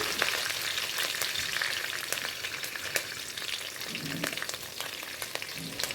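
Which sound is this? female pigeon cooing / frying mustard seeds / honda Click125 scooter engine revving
frying mustard seeds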